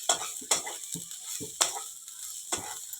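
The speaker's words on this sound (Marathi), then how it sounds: "मिश्रण व्यवस्थित भाजलं की त्याच्यामध्ये आपण भेंडी घालायची आहे" Okra is stirred into a chili spice paste frying in a pan, with a few sharp scrapes of the spoon at irregular intervals over a soft, steady sizzle, close and fairly quiet.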